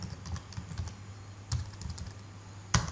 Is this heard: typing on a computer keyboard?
yes